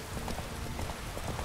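The horse Roach's hooves clip-clop steadily along a road in The Witcher 3, a quick, even rhythm of close, dull knocks over a dense ambient wash.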